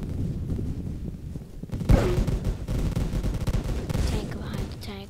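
Video game gunfire crackles in dense bursts and rapid volleys, with a sharp loud shot near the middle and heavy rumbling under murmured voices.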